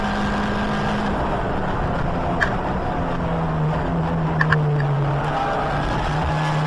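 Touring race cars, among them a diesel Seat Ibiza TDI, drone steadily through braking and a chicane at Donington Park, heard from inside one car as a constant loud engine note.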